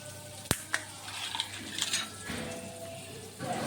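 Two butter cubes melting in a pan for cooking vegetables give a soft, faint sizzle, with a sharp clink of utensil on pan and a few scraping stir sounds nearby.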